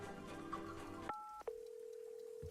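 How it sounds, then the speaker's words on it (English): A telephone in the video game Wanderstop, heard as steady electronic dial-style tones: a layered buzzing tone cuts off, then two short beeps lead into a single sustained clean tone, moderately quiet. "why do we hear like a phone?"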